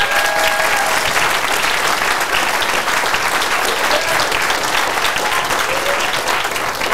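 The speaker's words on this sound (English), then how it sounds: "I want to give a big round of applause to the people that put together this event." Dense, loud applause from a crowd at a book launch party fills the whole stretch, steady and unbroken with no pauses.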